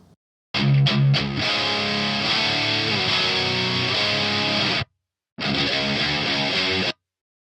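Heavily distorted metal guitar played through a Mesa Boogie Metal Bundle impulse response, loud and dense riffing for about four seconds, then a short silence before a second burst.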